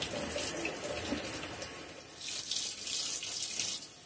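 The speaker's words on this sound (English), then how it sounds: "I need to rinse the spoon off so I can do the mustard." Running tap water splashes steadily into a kitchen sink while a spoon is rinsed during deviled egg preparation, a continuous close hiss with no talking.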